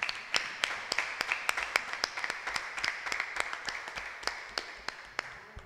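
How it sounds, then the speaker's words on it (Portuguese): A church congregation clapping together in praise, a steady rhythmic beat of many hands at a brisk, even pace, filling the room with no voices over it. "Vamos aplaudir o Senhor Jesus"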